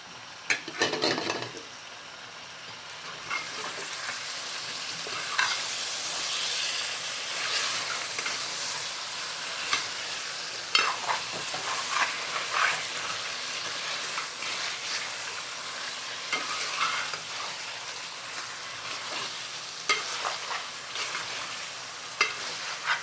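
Palva vegetable curry being stirred and fried in a pan over the gas, a steady loud sizzle and hiss with scraping stir strokes throughout, denser after a brief quieter start.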